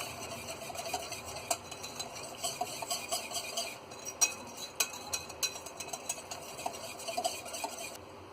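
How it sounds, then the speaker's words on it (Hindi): A spoon stirs milk, cocoa powder and butter together in a pan for chocolate burfi, giving a run of soft scraping strokes and light metallic clinks in an irregular rhythm, close and fairly quiet. "इसे अच्छी तरह मिक्स कर लेंगे।"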